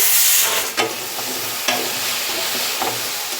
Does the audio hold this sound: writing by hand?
no